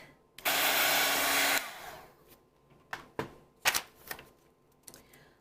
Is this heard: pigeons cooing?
no